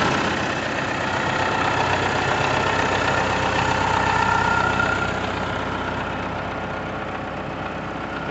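A 1985 Chevrolet D20 Deluxe pickup with a Perkins diesel engine idles steadily nearby, a loud, even rumble with a slight knocking clatter and no speech.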